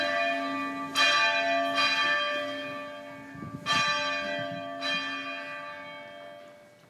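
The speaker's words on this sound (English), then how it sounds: "Those bells I recorded when I was outside a little church" Church bells outside a small church ring out in slow, resonant strikes, each toll blooming and fading into a long shimmering hum, heard outdoors with no voices.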